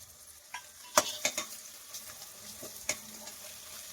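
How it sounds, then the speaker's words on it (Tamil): Onions frying in hot oil for a gravy are stirred with a spoon, soft sizzling under a few sharp scrapes and clinks against the pan, fairly quiet and close. "வெங்காயத்தை போட்டு ஒரு 2 கிளறி விட்டுட்டு அப்புறம் இஞ்சி பூண்டு போட்டுக்கலாம்."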